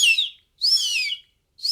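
A person whistles an imitation of the EEV bird call: three high, sweeping whistled phrases with short gaps between them, close and clear, with no talking.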